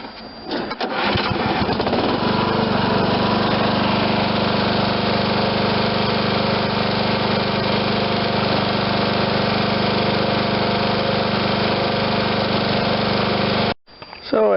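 A Briggs & Stratton 14.5 hp single-cylinder overhead-valve mower engine with a bad head gasket runs steadily at a loud, even idle with a low throbbing hum, starting up and then cutting off near the end.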